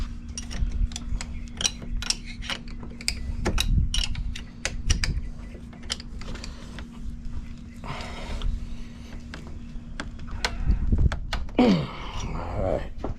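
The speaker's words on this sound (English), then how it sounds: "Now we're going to tighten the seal back up, and we'll be done on this side." Ratcheting clicks and metallic taps while a seal on a boat's steering system is tightened, close and moderately loud in irregular bursts, with a low steady hum beneath and a voice talking at times.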